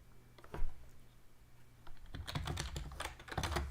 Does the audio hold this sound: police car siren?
no